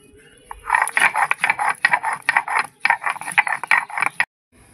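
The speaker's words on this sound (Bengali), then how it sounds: "আমি গরম মশলাটা বেটে নেব" Garam masala spices ground by hand, a rapid run of rhythmic rasping, clicking strokes, close and fairly loud, stopping abruptly near the end, with no talking.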